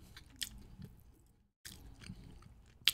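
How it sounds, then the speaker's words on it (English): Someone chewing food close to the microphone: wet, crunchy bites and mouth sounds in irregular bursts, with a brief silent gap partway through and no talk. "So sorry for my chewing."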